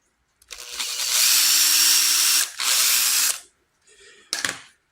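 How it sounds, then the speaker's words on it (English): Power drill boring a hole into a small metal holiday ornament after a center-punch mark, two sustained whining bursts close up, followed by a brief quieter whir and a short final rattle. "I take and drill it."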